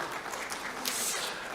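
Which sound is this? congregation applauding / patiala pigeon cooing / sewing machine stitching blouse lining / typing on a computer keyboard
congregation applauding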